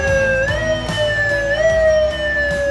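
A loud, steady ambulance siren in the pattern used for heavy traffic or congestion, with a sustained wailing tone that shifts pitch slightly at intervals and plays alone throughout, with no talking.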